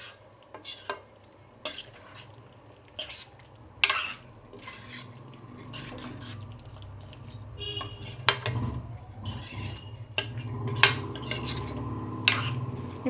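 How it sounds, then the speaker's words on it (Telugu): Gongura chicken curry with coriander being stirred in a pot, a spoon scraping and clinking against the metal in irregular bursts over a low background hum. "ఇప్పుడు దీన్ని బాగా కలుపుకుందాము."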